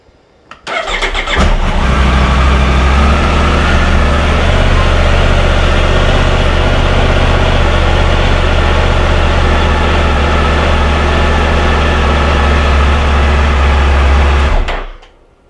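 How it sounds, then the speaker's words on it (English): A motorbike with a weak battery cranks briefly and then fires up into a loud, steady idle that holds close and constant for over ten seconds before cutting off abruptly. "Let's just try and start the bike up now, and just let's have a listen to how it starts up."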